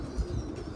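A brief burst of wing flapping from a pigeon in flight, close and somewhat muffled, over steady outdoor background noise.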